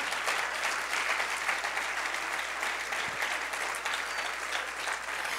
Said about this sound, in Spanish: Denle el aplauso al Señor si se lo va a dar